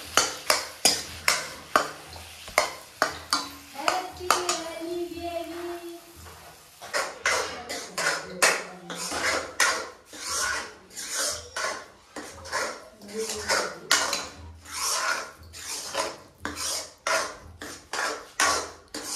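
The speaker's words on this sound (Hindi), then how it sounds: "मैं मावा को भून रही हूँ" Mawa roasts over a low flame while a spoon scrapes and stirs it in a pan, making a brisk rhythmic run of metallic strokes throughout, with a short stretch of talk partway through.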